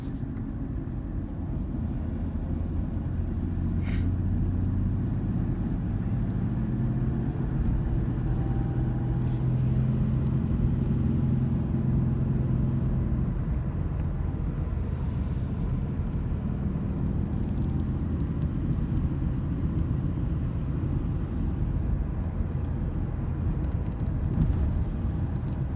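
A 2008 Ford Ranger with a 3.0 liter V6 and a five-speed manual cruises in fourth gear at about 30 mph, its low, droning engine hum steady under road and cabin rumble, with no talking.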